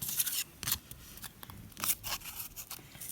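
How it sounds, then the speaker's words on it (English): Scissors snipping around a paper cut-out figure of a man, with a string of close, quick, uneven cuts and crisp paper rustles, loud against a quiet room with no talking. "Could you bring the scissors in please, Little Hands?"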